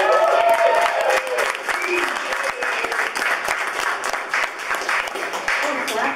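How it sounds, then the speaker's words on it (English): Scattered clapping and cheering from a small audience at a singer's first live gig, lively and close at first, then settling into continued applause with voices chattering underneath. "I'm clapping."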